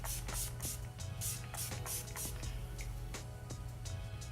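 Several short hissing bursts of makeup setting spray repeat in quick succession over a steady low hum, close to the listener.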